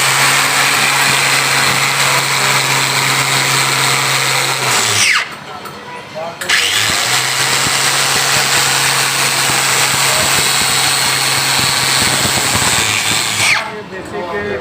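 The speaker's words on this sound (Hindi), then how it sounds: "तो ये सिलेंडर बोर हो रहा है" A motorcycle engine cylinder is bored on a boring machine in a workshop, a loud steady mechanical whir that cuts out briefly twice, with voices talking over it.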